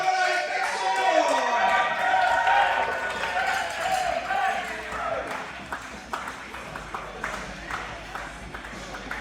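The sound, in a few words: loud crowd at a live wrestling show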